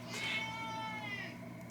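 A house cat gives a single faint, drawn-out meow, quiet and close, with nothing else happening around it.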